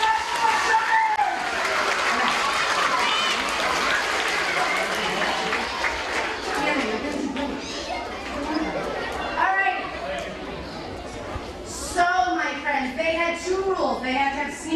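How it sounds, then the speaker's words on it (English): A school gym audience claps and chatters after students at a Jump 4 Health event are named, with scattered applause mixing into crowd murmur and voices throughout. "let's give them a round of applause"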